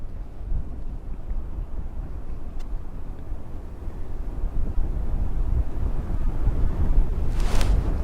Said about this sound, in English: That wind's really picking up